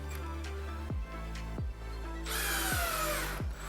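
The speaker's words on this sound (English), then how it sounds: "Now for speed and quickness, I like to use my drill to finish the rest." Cordless power drill driving 6-32 screws to fasten an electrical switch into a single-gang box, motor whirring in several short bursts that wind down between runs, close and fairly loud.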